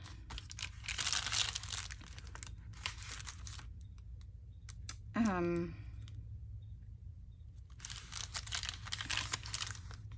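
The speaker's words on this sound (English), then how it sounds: "Cut out all these extra pieces from that kit" Pieces are cut out of a craft kit, giving two bursts of close crinkly snipping and crackling separated by a quiet stretch with a brief voice, and then a final crunchy burst.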